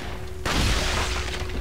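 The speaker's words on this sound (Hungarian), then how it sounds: "Egy lövés, egy halál." A single gunshot in the shooter game Resident Evil 4 cracks sharply, then a loud booming burst lingers and slowly fades over low background hum.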